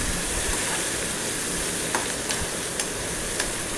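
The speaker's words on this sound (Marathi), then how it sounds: "आता याच्यामध्ये आपण उपम्यासाठी तेल गरम केलं आहे फोडणीसाठी" Onion fries in hot oil with mustard seeds and curry leaves as the tempering for upma: a steady, close sizzle with a few sharp spatter pops or spoon taps, no speech.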